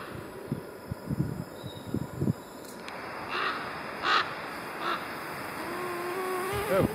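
Ravens or crows caw near a meadow on a hiking trail: a rough series of several harsh calls, fairly distant and moderately loud, with rustling and a thinner call toward the end.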